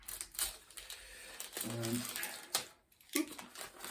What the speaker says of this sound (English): What's that switch feel like? That feels good. You hear that? Clicky.